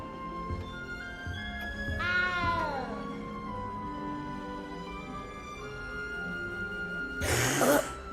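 A frightened cat in the video game Hogwarts Legacy gives a clear drawn-out meow near the start and a louder, harsher yowl near the end, over a quiet tonal music bed.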